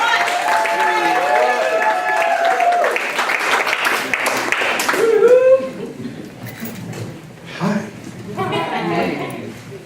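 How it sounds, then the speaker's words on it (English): An audience at a poetry reading applauds poet Moody Black onto the upstate stage, a steady burst of clapping with cheers that fades after about five seconds, leaving scattered voices and chatter. "give a big round of applause for Moody Black from the upstate stage"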